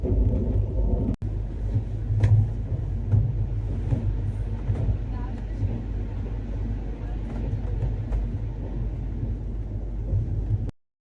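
Steady low rumble of a moving train, continuous and fairly loud, with faint clatter on top, ending abruptly.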